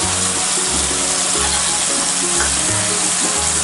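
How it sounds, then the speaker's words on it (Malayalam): Cauliflower chilli gobi frying loudly in a pan with soy, chilli and tomato sauces, a steady broadband sizzle with low rhythmic stirring thumps throughout, no voices. "നന്നായിട്ടൊന്ന് വഴറ്റി കൊടുക്കായിരുന്നു."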